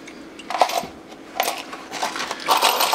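Small cosmoline-coated metal parts are poured through a hand into water, giving bursts of clinking, rattling metal in three or four clusters separated by short pauses.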